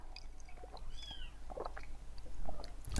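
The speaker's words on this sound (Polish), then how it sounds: "Głupie koty!" Cats meowing in the Styx Shards of Darkness video game, a faint short meow rising and falling among soft clicks and rustles over low game ambience.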